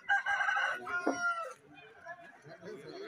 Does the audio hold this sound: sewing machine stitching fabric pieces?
no